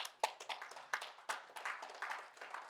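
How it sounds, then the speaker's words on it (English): A church congregation clapping in praise, scattered, uneven claps from a fairly distant group, soft and loosely rhythmic for a few seconds. "How about a clap of praise to the Lord?"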